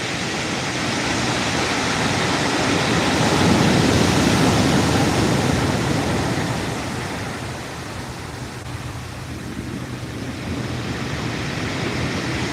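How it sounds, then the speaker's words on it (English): Heavy surf rolls and crashes continuously along a stretch of coastal beach known for big waves, a loud, broad wash that surges and recedes without pause. "Look at them waves. This has got the biggest bits of waves along here, this bit of beach."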